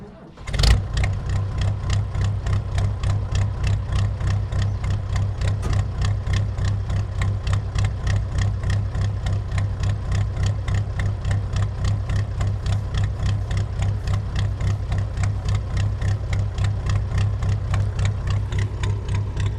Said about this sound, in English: This thing is a very rattly motor.